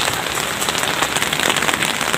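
Hail pours down hard at Changu Lake, Sikkim, producing a close, loud, unbroken drumming patter on surfaces, steady and dense throughout with no voices.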